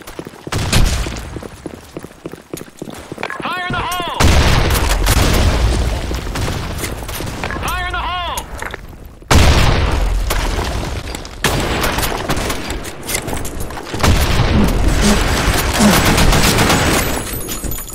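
Gunfire and grenade blasts in a shooter video game set in an office map: loud bursts of automatic fire and heavy booms in several separate volleys, with short quieter gaps between them.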